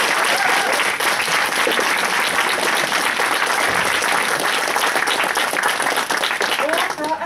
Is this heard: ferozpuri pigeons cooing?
no